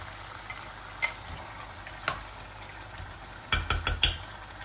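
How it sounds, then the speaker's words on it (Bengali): Chicken bhuna cooks in a pot with a low background sizzle, punctuated by sparse metallic scrapes and a quick cluster of clinks as a utensil stirs it. "এখন শুধু নাড়াচাড়া করব।"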